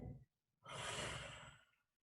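A single long audible exhale during a seated yoga twist, close and breathy, lasting about a second after a short inhale.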